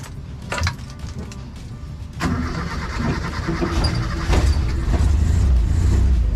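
An owner-type jeepney engine with an overflow problem cranks and catches, then settles into a steady, loud running rumble close by, growing fuller toward the end with no talking.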